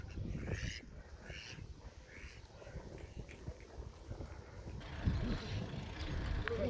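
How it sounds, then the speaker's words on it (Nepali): Ducks call with scattered quacks at a rural roadside, set against wind-buffeted outdoor noise and the rumble of passing movement, with some faint voices in the background. "हाम्रो हाँसहरू बाटो काट्न तयार"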